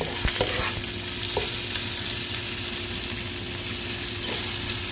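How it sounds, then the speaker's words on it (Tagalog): Onion and garlic sauté together in butter in a pan for a spicy lamb rib stew, giving a steady close sizzle with a few stirring clicks from a utensil. "yung ating sibuyas at bawang. Pinagsabay ko na ho yan para maganda po yung caramelize niya"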